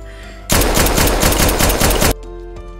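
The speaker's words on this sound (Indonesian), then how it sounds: "Kate pun datang dan langsung menembaki Shinjo hingga ia pun tewas" A loud burst of rapid automatic gunfire from an action film scene rattles continuously for about a second and a half, then cuts off abruptly, with no voices over it.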